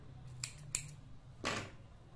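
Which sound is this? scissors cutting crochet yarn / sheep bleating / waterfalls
scissors cutting crochet yarn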